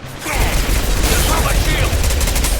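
Sustained automatic gunfire in the sci-fi video game Mass Effect during a squad firefight, a dense, loud, continuous rattle of rapid shots with explosive thumps layered beneath, filling the whole moment with no pause.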